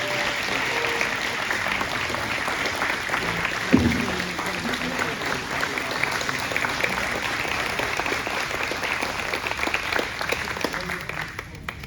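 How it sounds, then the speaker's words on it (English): An audience at a candidate forum applauds steadily throughout, a dense sustained clatter of many hands with a brief low thump partway through. "Give everyone a round of applause."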